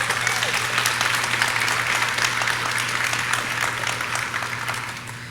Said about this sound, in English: Can I get a round of applause for this fine group?